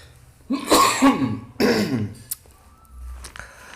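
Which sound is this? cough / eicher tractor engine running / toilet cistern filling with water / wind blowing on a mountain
cough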